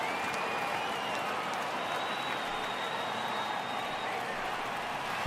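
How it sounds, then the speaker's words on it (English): Steady murmuring baseball stadium crowd in MLB The Show 18, a continuous dense wash of distant voices and light applause filling the whole stretch at an even level, with no clear talk over it. "I can hear the crowd murmuring now"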